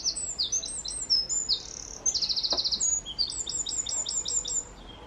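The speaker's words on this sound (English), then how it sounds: "We're also being serenaded by a wren" A wren sings loudly and close by in repeated rapid trilling bursts of high chirps, phrase after phrase with brief pauses, clear over faint outdoor background.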